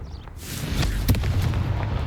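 A Confringo spell explosion in the video game Hogwarts Legacy, a single dull, rumbling blast that swells and lingers briefly, with no talk over it.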